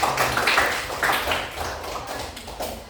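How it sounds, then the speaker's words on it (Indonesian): A group claps hands in a classroom session, sharp uneven slaps bunched in bursts that loosen and fade into scattered claps, close by with no speech on top. "Oke, kasih tepuk tangan dong"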